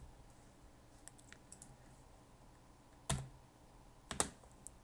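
A few scattered keystrokes on a computer keyboard, mostly faint taps with two sharper, louder key presses near the end, in an otherwise quiet room.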